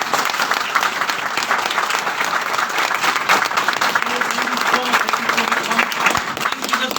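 A large audience applauds loudly at a Hindi-language business seminar. Dense, sustained clapping runs steadily through the whole stretch with no gaps, and faint crowd murmur sits beneath it.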